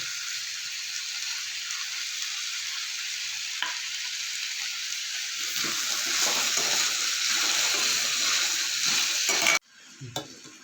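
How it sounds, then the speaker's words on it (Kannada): Pumpkin curry being stirred in a pan, a continuous soft sizzle with scraping stirs that grow busier toward the end, close and alone, before cutting off sharply near the finish. "ಕುಂಬಳಕಾಯಿ ಹಾಕ್ಬಿಟ್ಟು ಅದನ್ನು ಈ ಥರ ನೀಟಾಗಿ ಮಿಕ್ಸ್ ಮಾಡ್ಕೊಳ್ಳೋಣ"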